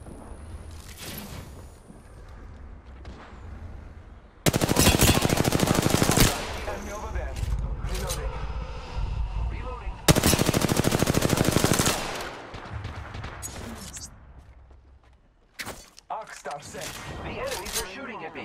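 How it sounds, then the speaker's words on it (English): Enemy gunfire in Apex Legends bursts out in long loud automatic volleys with single sharp shots between them, and game sounds and voices run underneath. "The enemies are shooting at me."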